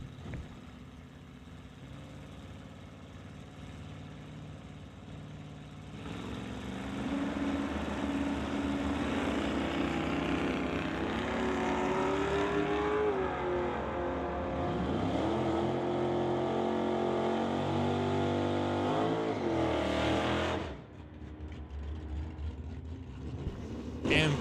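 Drag race between Bill Wells in the TNT Auto Parts Mission Malibu and Bobby Ehlers in a Mustang Fox Body at an NHRA Summit ET event: a steady engine drone swells into a loud, sustained roar with rising pitch, then cuts off abruptly near the end.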